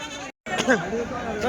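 Goats bleat close by at a weekly goat market in Kadiri, a couple of wavering cries over a busy crowd murmur, broken by a brief silent gap.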